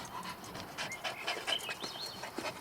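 A dog pants outdoors in rapid, breathy bursts, close and steady, against a soft background of birdsong and outdoor ambience.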